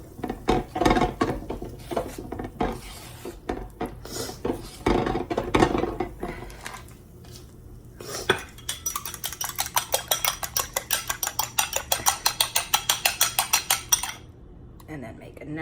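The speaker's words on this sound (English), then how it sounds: "Take a couple of eggs. And whisk them up super duper good." Eggs are whisked in a bowl with quick, rhythmic metallic clinks of a utensil against the sides, following earlier kitchen clatter of dishes and pans, with no talk over it.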